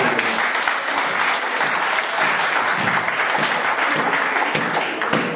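A church congregation applauds during a service, dense sustained clapping from many hands filling the room evenly for several seconds.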